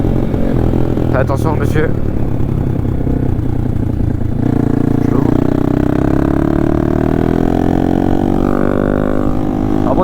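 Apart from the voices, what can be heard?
motorcycle engine warming up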